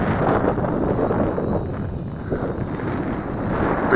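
Steady gusting wind of about 15 mph buffets the microphone on a windy day outdoors while a small MJX X400 drone flies, a loud continuous rumbling roar with no talk.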